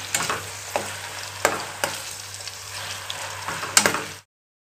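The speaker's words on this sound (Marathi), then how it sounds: "मध्यम आचेवरती 1 मिनिट घातलेले वाटण तेलात छान परतून घेऊयात" Ground spice paste for spinach pulao frying in oil over medium heat, with a close sizzle broken by several sharp spatula scrapes against the pan before it cuts off abruptly.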